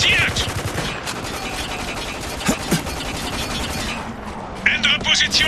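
Rapid bursts of automatic gunfire and sharp shots crack through a firefight in the video game Spec Ops: The Line, loud and sustained under overlapping shouted voice callouts.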